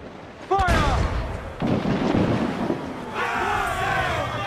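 A ship's cannon fires a warning shot during a naval chase in Assassin's Creed IV, a sharp boom followed by rumbling wash over wind and water noise, with a second swell of battle sound and voices later.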